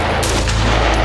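A single loud gunshot rings out close by during live-fire active threat training, a sharp blast that fills the short moment with its echo.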